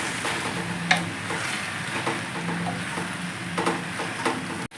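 Gongura chutney mixture being stirred in a pan, a soft continuous sizzle with scraping strokes and occasional light taps of the spoon, close by and without speech.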